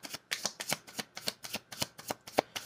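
Tarot cards shuffle close up in a quick, even run of about a dozen crisp riffling bursts, with no talk over them.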